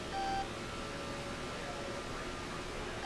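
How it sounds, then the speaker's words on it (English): An alarm beeps in a NASCAR racing video game, a steady electronic tone over a dense hiss of engine and track noise, with a short brighter beep near the start. "I'm not the only one hearing this alarm, right?"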